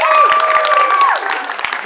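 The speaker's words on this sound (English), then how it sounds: "can I have a round of applause for them?" Audience applause at a Ghost in the Shell 2017 movie premiere fan event, a steady dense wash of clapping and crowd noise throughout, with sustained tonal sounds and voices mixed in.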